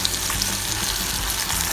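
Sigara böreği pastry rolls frying in hot oil until crispy, a steady close sizzle with faint bubbling crackle throughout and no voices.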